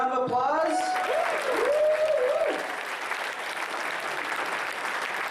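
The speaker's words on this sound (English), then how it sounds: "Let's get a round of applause." An audience at a hackathon opening ceremony claps loudly and steadily. A voice speaks briefly at the start before the applause takes over and holds.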